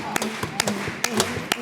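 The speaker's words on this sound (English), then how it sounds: "So this time you help me. You clap it out." A group claps out a steady chest-compression rhythm for CPR, with sharp, evenly spaced claps about twice per second and softer taps and thumps between them.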